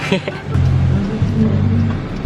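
Interior engine hum of a car during a ride in the speaker's brother's car, a steady low drone with slight shifts in pitch as it moves, close and fairly loud, with a voice briefly audible over it.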